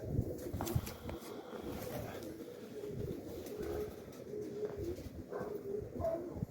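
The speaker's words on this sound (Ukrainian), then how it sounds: "похоже, що більше десятки голубів" More than a dozen pigeons coo repeatedly in soft, throaty murmurs against steady outdoor rumble and wind, several birds close by.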